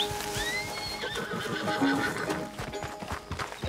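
A horse whinnies loudly over steady clip-clopping hooves and a busy background of ambient game sounds in Red Dead Redemption 2.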